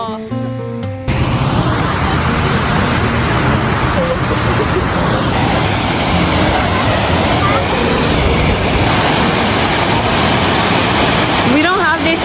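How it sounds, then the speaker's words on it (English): A forest waterfall roars loud and steady, a dense broadband rush of water that fills the scene from start to finish after a brief quieter opening. "Guys, the waterfall."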